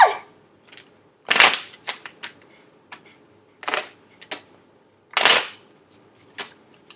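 Tarot cards being shuffled by hand: three loud riffling bursts spaced a couple of seconds apart, close up, with softer card taps and handling noises in between.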